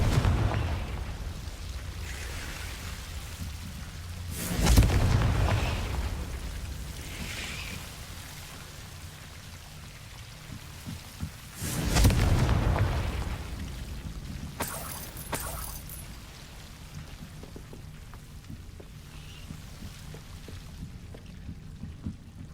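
Two heavy Confringo spell explosions from the Hogwarts Legacy video game burst out several seconds apart, each a loud, rumbling blast that fades into a quieter ambient hum.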